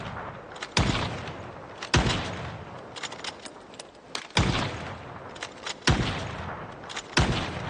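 Repeated gunshots in Project Zomboid, about seven sharp, loud, close reports spaced roughly a second apart, each trailing off into a noisy decay, with no talk.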